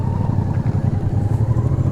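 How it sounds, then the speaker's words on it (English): A motorcycle rides along a rural byway near Eyam, its engine giving a steady, close, rumbling drone that pulses slightly throughout, with no voices. "It is a motorcycle, mate."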